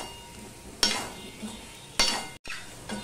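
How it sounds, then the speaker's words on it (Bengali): Green chilli frying in a pan, a soft steady sizzle broken by a few louder stirring scrapes, close and fairly quiet with no talk. "লঙ্কাটা একটুখানি আমি ভেজে নেব"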